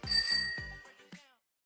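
A bell ring sound effect in a closing segment: a few bright, quick dings in succession followed by a ringing tone that fades away into silence.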